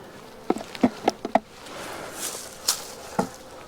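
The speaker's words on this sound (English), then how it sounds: "there are a bunch of bees, it looks like, in the top" Honey bees buzzing over frames of brood in an open hive, a soft continuous drone broken by a few close, brief buzzes and faint knocks of handling.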